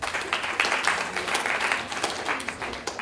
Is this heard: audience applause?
yes